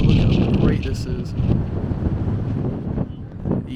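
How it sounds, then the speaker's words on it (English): Strong wind buffets on the rim of the Mt Ijen volcano, loud gusting rumble against the microphone that eases and returns, with a voice speaking briefly underneath. "look how windy it is"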